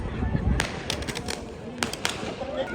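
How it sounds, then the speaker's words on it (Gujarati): Firecrackers burst on an Uttarayan evening, several sharp cracks at a distance, scattered irregularly under a person talking. "જો આ લોકો ફટાકડા ફળી રહ્યા છે"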